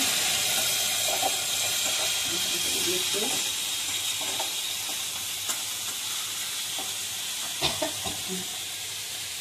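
Chopped bottle gourd and potato are stirred in a frying pan over a low, steady sizzle and hiss, with a few sharp clinks and scrapes from the utensil, the loudest near the end.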